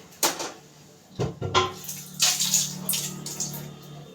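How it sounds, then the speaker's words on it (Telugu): Fresh mint leaves washed by hand in water, with intermittent splashing and sloshing bursts at close range, some light clinks between them, and no talking. "ఇప్పుడు ఈ పుదీనాను అయితే వాష్ చేసుకోవాలి."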